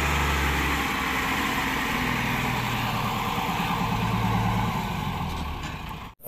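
An excavator truck's heavy diesel engine idles with a deep, steady low rumble up close, continuing evenly before cutting off abruptly at the very end.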